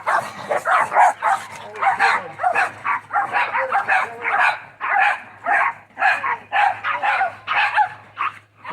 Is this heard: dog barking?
yes